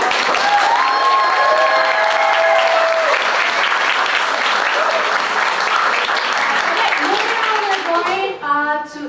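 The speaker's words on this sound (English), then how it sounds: "please let's give one more round of applause for our" An audience at the Octavia Project Summer Showcase breaks into steady, loud applause that fills the room for most of the stretch, with a few voices calling out over it before it thins and fades at the end.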